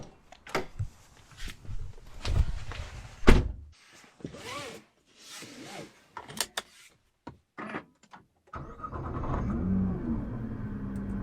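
Nissan GT-R (2021) firing up: a few clunks and short bursts, then the engine catching and settling into a steady idle rumble near the end, close by.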